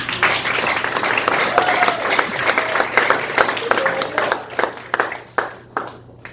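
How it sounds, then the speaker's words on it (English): Warm audience applause at an evening soiree, dense at first, then thinning into scattered individual claps before it dies away. "one more round of applause for Maria"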